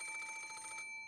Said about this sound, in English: At that time, the phone rang.